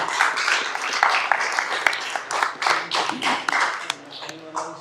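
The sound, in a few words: audience clapping in support of volunteer departments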